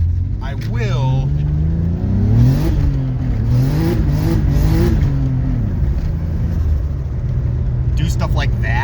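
A drift car's engine revving on winter tires in early March, loud and close, with pitch repeatedly climbing and dropping through sharp rev swells over a constant low rumble.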